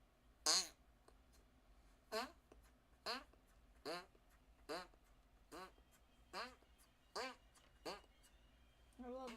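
A squeezable fart bag toy pressed by hand, producing about ten separate sputtering fart noises at a steady rhythm, close and fairly loud with quiet gaps between.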